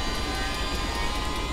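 Helicopter engine in Take on Helicopters running up during startup, heard as a steady, dense turbine whine and roar with a faint rhythmic pulse.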